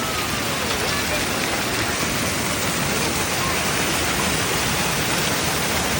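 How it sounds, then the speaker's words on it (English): Waterfall on a rural property, a dense, constant rush of falling water heard close and loud with no letup. "We have a waterfall on our property."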